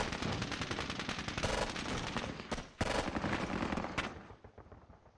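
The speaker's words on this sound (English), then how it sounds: "let's lay down some rounds on those guys" Sustained gunfire from the Squad Battles: Eagles Strike wargame, a dense run of rapid shots and bursts with a few sharper cracks, loud and continuous before fading toward the end.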